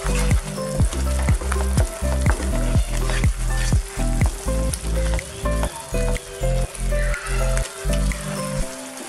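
A pav bhaji masala mixture sizzles in hot oil and is stirred in a pan, with constant frying crackle and regular rhythmic scraping strokes, close and fairly loud.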